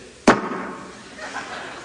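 A voice imitates a period punctuation mark in a comic routine with a single sharp mouth pop, followed by a faint fading tail and soft background noise.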